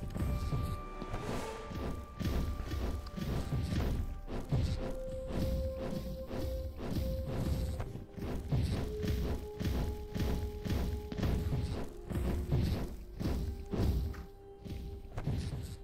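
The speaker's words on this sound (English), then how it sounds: "it summons a little tornado that destroys environment" A summoned tornado item in the video game Our Darker Purpose tears through the environment, producing a dense run of repeated thuds and crashing smashes over steady background game music.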